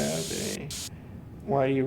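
Spray paint hisses onto a PC case in PC Building Simulator 2, a steady loud spray that cuts out briefly midway and then resumes, with someone talking over it.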